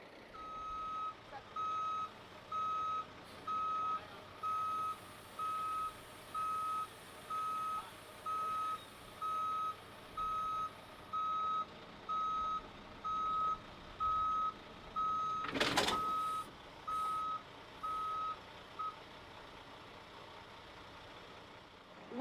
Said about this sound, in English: select reverse and reverse until the two units are connected